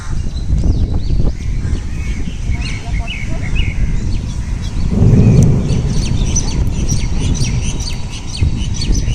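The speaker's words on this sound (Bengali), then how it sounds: "পাখির ডাক" Birds call out in a green park in a residential complex in Newtown, Kolkata, ahead of a cyclone, with crow-like caws and chirps over a steady outdoor rumble and someone talking close by.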